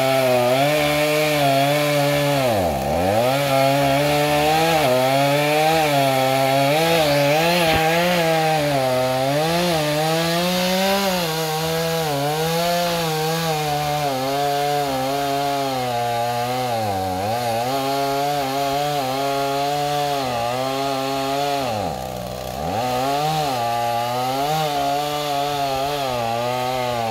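A chainsaw cutting down a leaning tree, its engine droning loudly and continuously with rising and falling pitch as the chain bites into the wood, working close by for a long stretch.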